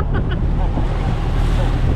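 Loud, continuous rush of ocean waves breaking around a small boat at sea, mixed with gusting wind buffeting the microphone and a hint of voices.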